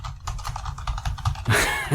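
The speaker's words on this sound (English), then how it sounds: "exactly the frantic typing" Fast, frantic typing clatters on a computer keyboard in a dense run of close keystrokes. Near the end a heavier burst of key clatter and rustling joins in.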